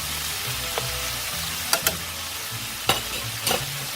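Raw pork browns in a pot for pozole with a steady, close sizzle, broken by a few sharp spoon scrapes and clanks against the pot.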